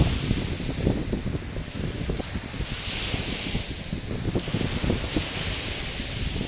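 Sea waves wash onto a beach in Phuket, a steady surf rush mixed with wind buffeting the microphone, continuous and fairly close with no voices.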